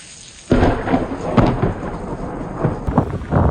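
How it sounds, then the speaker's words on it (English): Thunder cracks and rumbles loudly through a night storm in Texas, a sudden heavy boom followed by rolling rumble with rain hissing steadily underneath. "A fierce storm erupted in Texas, then a massive lightning bolt tore across the night sky"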